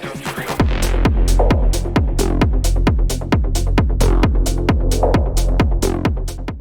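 Driving peak-time techno with a heavy four-on-the-floor kick pounding steadily at a fast tempo, layered with bright, crisp hi-hats and a rolling bassline.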